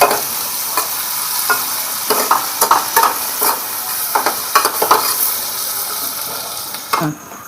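Onion and tomato fry together in a pan for a dhaba-style vajdi masala, a loud close sizzle with a rapid run of stirring scrapes and clicks, easing off toward a final clunk, no speech.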